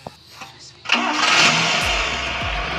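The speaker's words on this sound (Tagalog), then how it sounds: "start nga yung sasakyan para marinig nila yung tunog niya" A Toyota Corolla engine cranks briefly and catches, settling into a loud, steady running rumble right up close.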